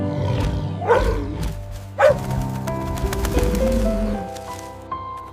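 A cartoon dog barks a few times, short sharp yelps over steady background music.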